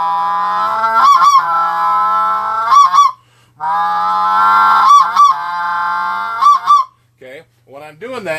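A Triad Killer goose call blows the basic spec sound, a series of loud, close two-note honking clucks in quick pairs, with brief pauses between bursts.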